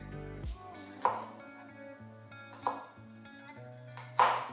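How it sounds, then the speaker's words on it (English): Knife chopping garlic on a board, three separate sharp chops spaced about a second and a half apart, close and clear with a faint background hum. "so you want to chop the garlic"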